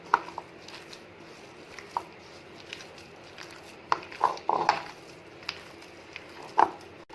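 Hands mix a sticky chicken nugget mixture in a bowl, making soft, close, irregular squishing and patting sounds with a few sharper taps, fairly quiet over a low background.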